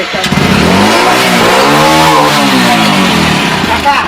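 Motorcycle engine revving close by, a loud, steady roar that rises and falls in pitch over a few seconds before settling back, with no pauses.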